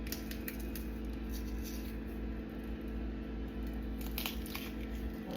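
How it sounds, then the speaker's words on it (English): Biscoff biscuits being crumbled by hand, a soft, quiet run of squishy crunching and crackling close up, continuous with small bursts of sharper crumbling. "Just crumble them like so."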